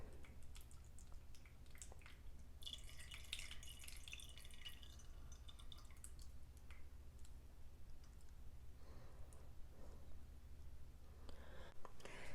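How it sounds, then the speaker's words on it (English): Infused lavender oil drips through a strainer, making faint, soft dripping clicks at an irregular pace under a quiet background hum. "And then I just let it drip out."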